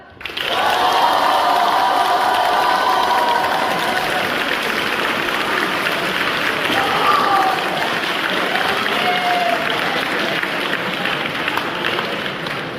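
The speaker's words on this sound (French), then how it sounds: "Mesdames et messieurs, veuillez applaudir l'édition 2025 du Boulal" An audience claps and cheers continuously at the opening of a student show, with scattered whoops and voices rising over the dense, steady applause.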